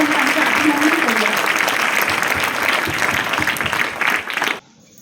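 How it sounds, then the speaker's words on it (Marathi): An audience at a ceremony honouring an ideal mother breaks into strong, sustained applause, a thick, even wash of clapping that carries on for several seconds before cutting off. "जोरदार टाळ्या वाजवून आपण त्यांचे अभिनंदन करूया।"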